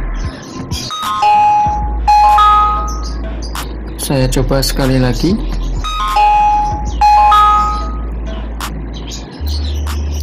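Ding-dong chime tones play from the built-in speakers of a secondhand Toshiba C40 laptop, repeating in bursts and sounding somewhat tinny, while someone speaks briefly over them.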